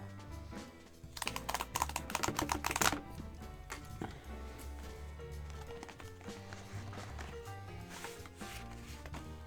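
A cardboard envelope is handled and torn open, a burst of crisp rustling and tearing clicks up close, then lighter shuffling and faint thumps as the contents are moved.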